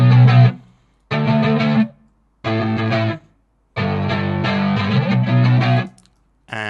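Distorted electric guitar power chords run through a Guitar Rig amp preset for a pop punk beat, struck in chopped staccato bursts: five loud blocks of chord hits separated by short silences, with no voices.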